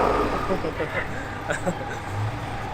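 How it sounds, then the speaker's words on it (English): A loud truck passes outdoors, its low engine rumble and road noise swelling and fading beneath a man's ongoing speech. "That's a loud truck."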